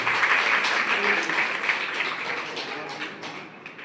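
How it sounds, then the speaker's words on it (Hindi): Steady applause from an audience at a spiritual gathering in Ratlam fills the room, a dense wash of many hands clapping that gradually thins and softens toward the end, with voices faintly mixed in. "बहन गायत्री जी के लिए भी एक बार जोरदार सभी तालियां दें"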